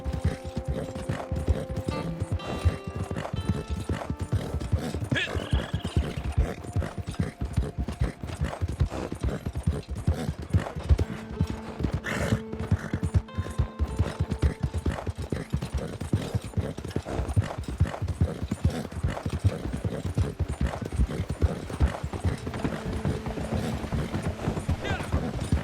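Horse galloping in Red Dead Redemption 2, a relentless fast drumming of hooves up close for the whole stretch, with faint tack rattles and a player's voice chatting over it at times.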